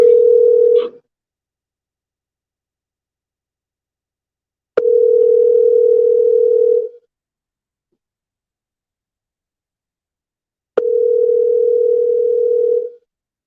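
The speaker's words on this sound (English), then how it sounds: "the recording before I make the call to Don" Telephone dial tone on an outgoing call: three steady, loud single-pitch tones, the first under a second and the next two about two seconds each, separated by long silences, with no voices.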